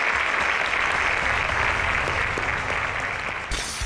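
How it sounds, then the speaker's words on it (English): An audience gives sustained, loud applause for the junior finalists of a math contest final, a dense wash of clapping that thins slightly near the end. "Please, a round of applause to them."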